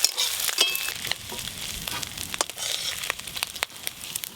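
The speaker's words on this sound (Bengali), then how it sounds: "চিংড়ি মাছগুলো ভালো করে ভেজে নিয়েছি," Shrimp fry in a pan with a constant close sizzle and crackle, broken by sharp pops and spits, and no voices.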